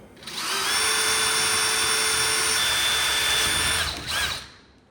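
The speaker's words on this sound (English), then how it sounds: "Drill it out with a 7/32 drill bit." A power drill bores a 1/8 inch pilot hole through a plastic MAAX Cyrene shower wall panel, a loud, steady high whine held for about four seconds before a brief dip, a short surge and a trailing spin-down.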